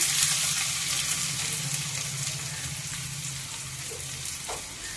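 Onion pieces and curry leaves fry in well-heated oil for a chicken curry, giving a continuous, dense sizzle that stays close and fairly loud, easing slightly toward the end, with no talking.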